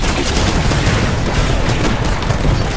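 Sustained, loud gunfire in the multiplayer video game Titanfall, with rapid automatic fire and booming shots packed together continuously, dense and close with no pauses.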